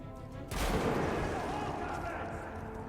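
Gunfire erupts in the video game Metro 2033 Redux: a sudden loud blast opens a dense, sustained roar of shooting that stays heavy to the end, with a voice faintly mixed in.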